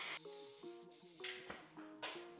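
Spray paint hissing onto the wiper cowl and wiper arms of a second-generation Mitsubishi Eclipse, in several short close bursts separated by brief pauses, over a faint steady background hum.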